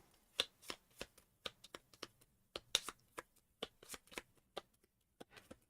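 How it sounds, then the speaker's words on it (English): Playing cards riffle-shuffled for a solo board game of Speakeasy, heard as a series of crisp, close, papery riffles and taps in quick irregular bursts with brief pauses. "Shuffle it in with the 2 cards that he didn't use."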